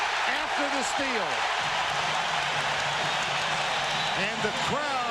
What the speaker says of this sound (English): the crowd will accompany him to the bench with thunderous applause